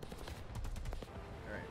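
Video game machine gun fired in short, controlled bursts, a few rapid cracks clustered together, faint and distant within a low background.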